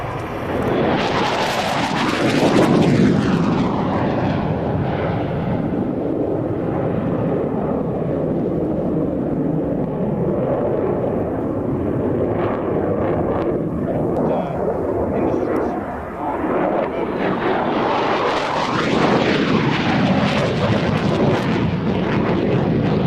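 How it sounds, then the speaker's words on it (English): An aircraft making a slow configured flyby at the Fairford airshow, a loud sustained jet roar that swells, fades a little and swells again, with a voice talking over it. "Right now we are on a slow configured flyby."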